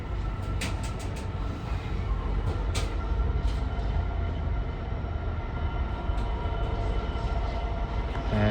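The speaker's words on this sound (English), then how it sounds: "There's the 11:51 cross country service from Birmingham Street to Stansted Airport comes in" A CrossCountry passenger train pulls into Nuneaton station on the West Coast Main Line, a continuous loud rumble and roar with faint rail clatter and brief high squeals.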